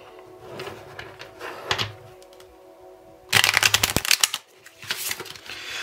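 Tarot cards being shuffled and drawn, with a few soft flicks and snaps at first, then a loud, rapid riffle of crisp card slaps mid-clip and a final short burst, close up and without talk.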